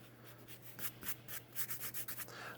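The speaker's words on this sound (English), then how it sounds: "I'm going to take an eraser real quick. I'm going to erase all that," A pink pearl eraser rubs out pencil marks on paper, making quick, close, rhythmic scrubbing strokes in a rapid series of short raspy bursts over a faint steady hum.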